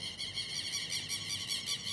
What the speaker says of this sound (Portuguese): Ó o barulho dos pássaros, ó.